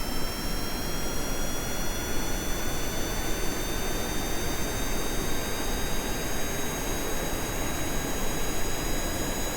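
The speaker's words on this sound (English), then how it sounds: "Let's see if this thing takes off." Jet aircraft engine in the video game Kerbal Space Program, a steady, loud roar with a thin high whine running through it, holding constant for nearly ten seconds without voices.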